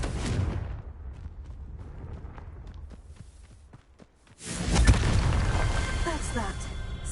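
A booming magical Confringo explosion spell from a game erupts with a deep, loud burst and a rumbling tail, following scattered steps and a shouted incantation.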